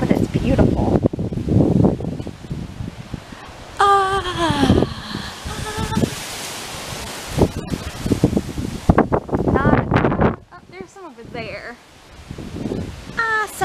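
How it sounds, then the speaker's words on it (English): Wind rushes and rustles loudly outdoors in shifting gusts, with a person talking through much of it. "it's really windy out today"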